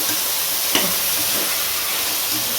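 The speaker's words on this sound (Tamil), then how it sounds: "உருளைக்கிழங்கு, கத்திரிக்காய். இது கொஞ்சம் நேரம் எண்ணெயில் வதக்கு" Potato and brinjal pieces sautéing in hot oil give a steady, fairly loud sizzle and hiss throughout, with a faint stir or scrape partway through and no talking.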